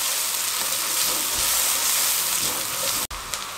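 Onion and besan sabzi with spices sizzles and fries steadily in a pan, a close, continuous crackling hiss with a brief dropout near the end.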